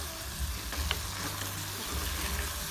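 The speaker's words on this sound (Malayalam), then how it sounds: "ഉപ്പൊക്കെ ഇട്ട് നന്നായിട്ടൊന്ന് ഇളക്കി കൊടുക്കുക" Salted onions and clam meat fry for a Wayanad-style kakka fry, giving a faint, continuous sizzle with a low rumble under it and a few light stirring scrapes.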